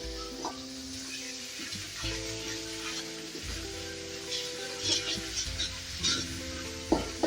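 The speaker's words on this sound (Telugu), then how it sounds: "ఇవన్నీ బాగా పచ్చివాసన పోయేదాకా ఆయిల్లో కొద్దిసేపు ఫ్రై చేసుకుందాము." Spices sizzle and fry in hot oil in a pan for a goat head curry, with a spoon stirring and scraping intermittently, close and moderately loud, with no talking.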